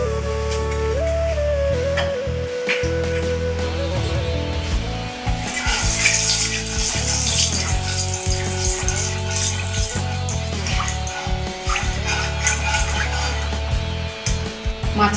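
Rohu fish pieces dusted with turmeric sizzle and crackle in hot oil, a steady bright frying hiss under a voice talking nearby.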